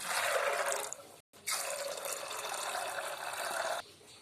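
Water being poured into a cooking pot, a steady splashing pour that breaks off briefly, then resumes for a longer stretch before stopping abruptly.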